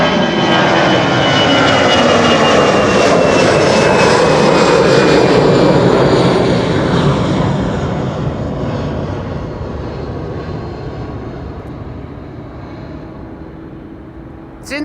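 A narrow-body jet airliner takes off at Schiphol, a loud, broad engine roar that holds steady and then slowly fades as the aircraft moves away, with no speech heard.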